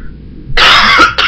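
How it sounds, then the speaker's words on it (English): A single harsh cough bursts out close to the microphone, followed a moment later by a shorter second cough, with no talking over it. "If I could cough another way, I would."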